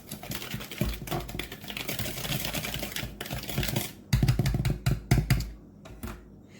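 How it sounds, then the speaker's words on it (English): Granulated sugar and salt whisked together in a bowl, a dense run of quick, close scratchy ticks that breaks into sharper, louder bursts near the end before tapering off. "I'm going to just whisk this up together"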